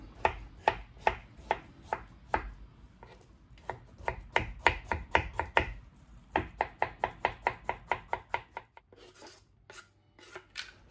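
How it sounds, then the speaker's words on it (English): A knife chops food into squares on a cutting board, a series of sharp, close taps in quick irregular runs and bursts, with no talking. "what we are going to do is just to cut it into squares"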